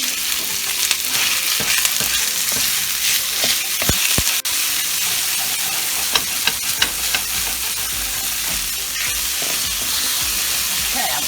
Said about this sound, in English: I'm gonna start to fry this meat.